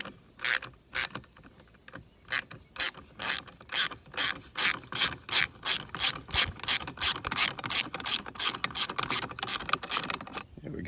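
A ratchet wrench clicks in a quick, steady rhythm of about two dozen strokes while backing out an 8mm bolt from a boat's lower unit, close and clear with no talking.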